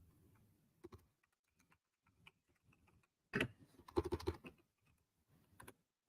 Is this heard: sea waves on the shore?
no